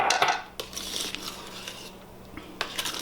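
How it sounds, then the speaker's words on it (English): Melted butter being gently folded into pancake batter in a bowl: utensil scrapes and light clinks against the bowl, with a few soft taps, close and fairly quiet. "I'm just going to gently fold in the melted butter we had on the counter."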